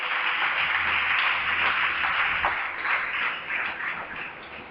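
Church congregation applauding together, a steady dense wash of clapping that stays loud and even throughout without pauses.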